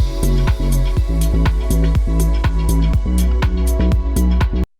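A punchy FM synth bass line made in Serum plays a bouncy repeating pattern with sharp rhythmic hits, loud and alone, cutting off abruptly at the end.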